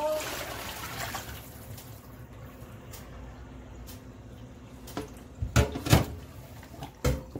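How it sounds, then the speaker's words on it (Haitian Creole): Water pours and splashes over raw chicken being washed in a sink for Haitian-style curry chicken, a steady running wash rising into louder splashing bursts near the end, with a voice talking at times. "Jeter de l'eau"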